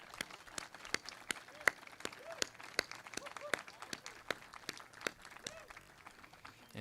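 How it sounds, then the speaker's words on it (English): An audience at a veterans' recognition ceremony claps for veterans in a sparse, steady run of individual handclaps, some sharp and close. Quiet voices sound faintly underneath. "Let's give all our veterans here a round of applause here."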